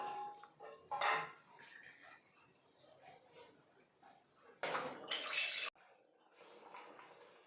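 Dishes being washed by hand with Pixie liquid dishwash and water, running water splashing in bursts with clinks of pots and utensils, close and intermittent.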